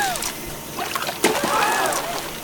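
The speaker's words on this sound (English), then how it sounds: "Yikes, all the water spilled." Water splashes and sloshes as it spills out of a pool filled with ice cubes, a short run of close, wet splatter with a faint whistling tone over it.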